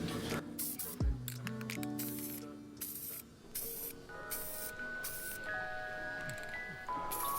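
Bursts of aerosol clear coat spraying onto an Xbox One controller, several hissing blasts of varying length separated by short pauses, close up with faint mechanical clicks between, no talk.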